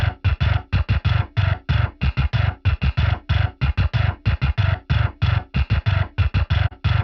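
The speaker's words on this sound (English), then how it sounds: "This also has cool palm muted dead notes" Programmed bass plays palm-muted dead notes in a fast, tight, chugging rhythm of short percussive thumps, loud and dry, with no other instruments.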